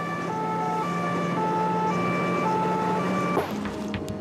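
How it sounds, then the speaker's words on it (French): A police car siren wails in steady repeating tones, loud and near, then cuts off abruptly near the end as traffic noise continues. "Sirène hurlante, son équipe fonce sur l'objectif"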